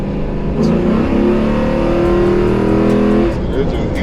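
A 2018 Chevrolet Camaro LT engine revs hard nearby, rising and holding a loud roar for a few seconds before dropping back, with voices talking around it.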